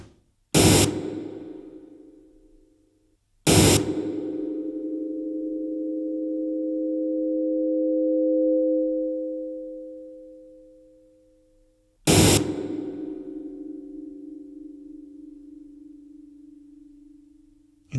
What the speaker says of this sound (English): here we demonstrate our delayed cancellation signal path method of feedback generation on a similar simple system.